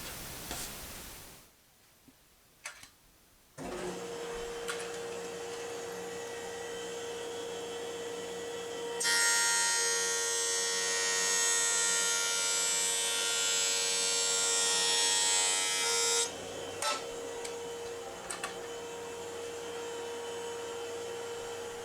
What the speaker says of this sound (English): So now I'm going to try face jointing a wide board.